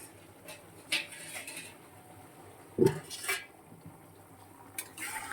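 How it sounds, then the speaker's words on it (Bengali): A cooking pan being covered with a lid while fish curry simmers on a low gas flame, giving a few brief metallic clanks and clatters against a quiet kitchen background. "ঢেকে দেব"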